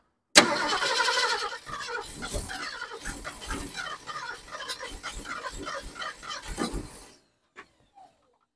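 A 1972 Ford Ranchero's engine cranks repeatedly after carburetor tweaks, a rhythmic churning starter whir that pulses for several seconds without catching, then stops, followed by a couple of faint clicks.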